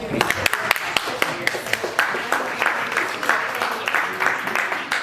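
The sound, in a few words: round of applause for Heather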